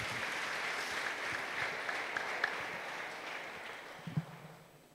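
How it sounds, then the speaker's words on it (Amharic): A church congregation applauding at a testimony service, a dense steady clatter of many hands that slowly fades away, with a couple of louder knocks near the end. "አጨብጭቡ እስቲ ለጌታ"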